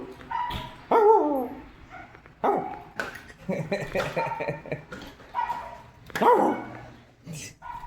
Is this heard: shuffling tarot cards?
no